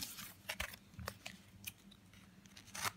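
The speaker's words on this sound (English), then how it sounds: "I'm going to crack these packs." Magic: The Gathering Amonkhet booster packs being torn open, giving close, crinkly bursts of foil wrapper tearing and rustling in quick irregular pulses, with no talk.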